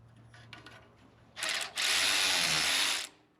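A small cordless power ratchet runs in two close bursts, a short whir followed by a longer steady buzzing spin of about a second and a half, loud against a quiet workshop.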